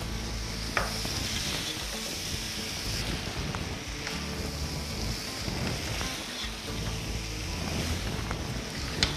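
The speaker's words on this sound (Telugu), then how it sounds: "ఇప్పుడు దీన్ని చక్కగా ఉప్పు పసుపు మనం వేసిన అన్నీ పట్టేటట్టు కలుపుతున్నాం" A pot of paya bone soup with salt and turmeric is stirred, giving dense, continuous sizzling and scraping close up, with a few sharp clicks of the utensil against the pot.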